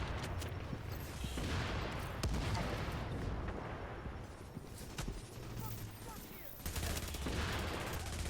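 Dense, sustained gunfire and explosions from the video game The Division during a hard-mode Clear Sky incursion, loud rapid bursts filling the whole stretch with a voice talking over them.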